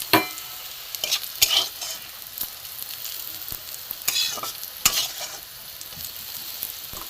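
Slices of bitter gourd fry in mustard oil in a pan, giving a continuous hissing sizzle broken by several sharp scrapes and clinks of stirring.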